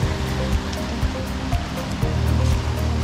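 Snowmelt water rushing in a mountain stream on a road trip in Greece, a loud, continuous close-up roar with no voices.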